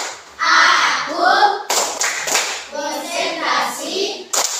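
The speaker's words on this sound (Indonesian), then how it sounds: "tepuk konsentrasi." A grade 5 classroom of children performs a rhythmic concentration clap, quick claps in a patterned beat mixed with loud group chanting voices throughout.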